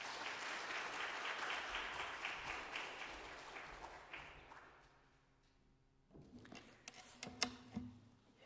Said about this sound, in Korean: 나오실 때 큰 박수 해주시면 좋겠습니다.